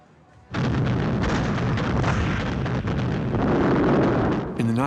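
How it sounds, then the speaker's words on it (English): Heavy, continuous rumbling roar of distant cannon fire, loud and sustained for several seconds with no clear gaps between blasts. "I'm awoken by the noise of cannons."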